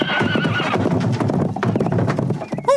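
An animated horse in a cartoon about ancient Chinese inventors whinnies loudly and close up over a brisk, steady clip-clop of hooves. The clip ends with a short, rising neigh.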